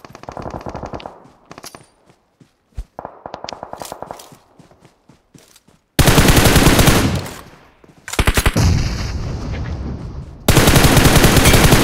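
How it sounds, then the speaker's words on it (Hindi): Automatic gunfire in the PUBG Mobile battle game, loud bursts of rapid shots starting and stopping, with sparse single shots early on and dense sustained fire in the second half. "नंबर फोर यहाँ फायर मारो"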